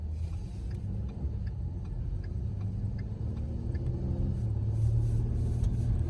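A car's turn signal ticks at a steady, quick pace over the constant low rumble of the engine and tires while driving slowly on a 25 mph street, with no talking.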